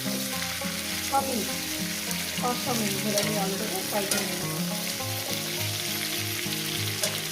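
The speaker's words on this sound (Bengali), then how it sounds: "এটাকে একটু ভেজে নেব" Snakehead fish frying in a pan for a potato and fish curry, with a steady close sizzle, stirring and scraping noises, and soft clinks throughout. Nobody speaks.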